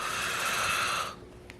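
A pen moves across a notebook page in a continuous close scratching stroke lasting about a second, then stops, leaving quiet room tone with one faint tick.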